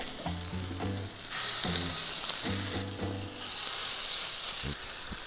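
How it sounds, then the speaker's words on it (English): Plain hamburger patties fry in a very hot pan with a loud, steady sizzle, interrupted by clattering knocks of a spatula or pan early on. "You want this to scorch these burgers and make them nice and crisp."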